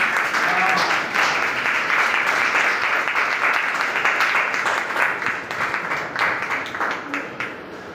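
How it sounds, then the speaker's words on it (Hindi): An audience at an arts and literature event gives steady, dense applause honouring the tabla master Ustad Bashir Khan. The clapping is sustained for about eight seconds and thins slightly toward the end. "भरपूर तालियों में, जिस तरह हमें अपने बुजुर्गों को इज्जत देनी चाहिए। उस्ताद बशीर खान साहब,"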